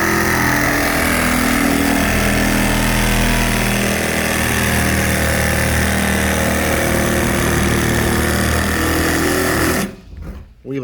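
A jigsaw-style Dremel cutting through a plastic IBC tote, a loud continuous buzzing saw drone that holds steady, then briefly cuts out and stutters near the end as the blade binds.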